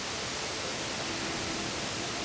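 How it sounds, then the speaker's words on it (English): Poondahra Falls on the Gold Coast, Australia, a pretty big waterfall in misty rainforest, heard as a constant loud broadband roar of falling water, steady throughout with no talk. "Wow, it's a pretty big waterfall."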